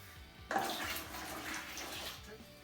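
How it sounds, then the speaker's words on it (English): Water pours steadily into a container, a sudden rushing splash that settles into a continuous, fairly close gush. "So I'm now going to top it up with some more cold water."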